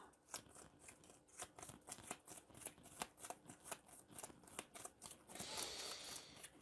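A deck of Marvel Champions game cards being shuffled, giving a steady run of crisp riffling flutters and soft slaps, close and fairly quiet, with no talking.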